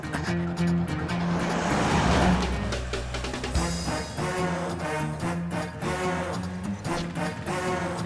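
A car pulls away and skids in a scene from a Hindi-dubbed action film, with a loud rush of engine and tire noise that peaks early and then fades under steady background music.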